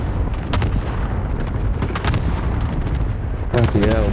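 Gunfire in a multiplayer shooter video game, a scatter of sharp shots and booms spread across the moment, some close and loud, amid constant battle noise with voices talking over it.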